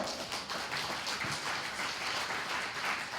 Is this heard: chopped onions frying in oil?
no